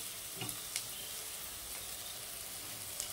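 Dry red chillies and cumin powder fry in oil for ghugni, a soft, steady sizzle with a few faint stirring clicks and scrapes.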